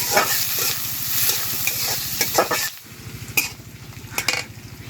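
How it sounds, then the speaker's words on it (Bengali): Chopped green chili and onion frying in hot oil over a village clay stove, a loud continuous sizzle with rhythmic stirring scrapes and a few sharp clinks, briefly dipping before resuming, with no voices. "কুচিয়ে রাখা কাঁচামরিচ আর পেঁয়াজটা তেলে দিয়ে দেবো আমি এটা হালকা বাদামি কালার করে ভেজে নেব"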